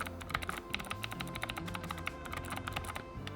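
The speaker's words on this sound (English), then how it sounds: "I'm not going to rob you guys of a quick listen to the sound of this keyboard" Quick, uneven bursts of key clacks from a mechanical keyboard fitted with NMB Space Invader switches, close and fairly crisp, typed steadily for a few seconds with a soft hum underneath.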